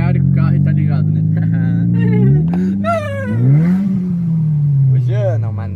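A car sets off for a ride around Balneário, its engine revving up and down in rising and falling sweeps, loud and close, with people talking over it.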